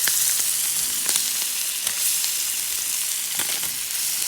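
Scallops searing in a hot pan, a bright continuous crackling sizzle with scattered sharp pops, moderately loud and close, with no talking.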